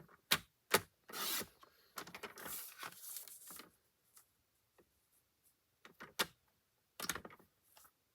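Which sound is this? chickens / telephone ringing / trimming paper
trimming paper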